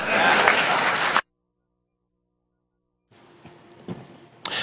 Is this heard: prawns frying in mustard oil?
no